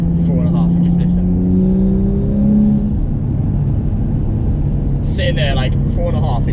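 A tuned BMW M235i with the N55 engine on a stage 2 tune, in sport mode, revs briefly and then holds a steady, droning idle-to-midrange hum; a voice speaks over it at the start and end.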